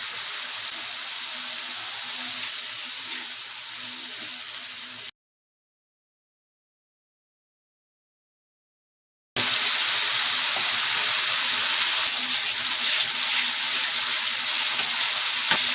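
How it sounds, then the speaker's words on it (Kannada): Ginger paste frying in a hot pan, a steady bright sizzle that breaks off into silence for a few seconds and then returns louder, with no voices. "ಶುಂಠಿ ಪೇಸ್ಟ್ ಹಾಕೊಳ್ತಾ ಇದ್ದೀನಿ,"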